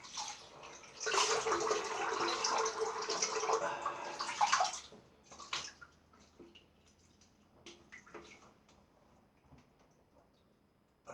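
Tap water runs in a steady, close rush for about four seconds while someone rinses off after a razor shave, then cuts off, leaving a few faint drips and small clinks in a quiet bathroom.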